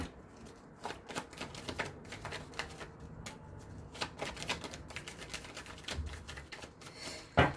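Tarot cards shuffled by hand in a quiet room, a steady run of soft crisp riffles and flutters with a sharper slap near the end, close and fairly quiet, no talk.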